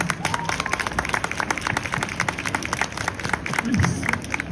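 A convention audience at a Harry Potter panel in Avignon applauds a French actress, with dense sustained clapping from a crowd lasting several seconds and some voices mixed in.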